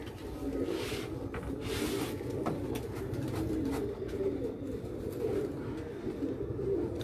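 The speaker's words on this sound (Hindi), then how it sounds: "तो ये सब्ज़े चीने कबूतर हैं मेरे" Sabz Cheena pigeons coo in a loft in hot weather, a soft, continuous layered murmur of overlapping low throaty calls from several birds nearby, with a couple of rustling wing flutters early on.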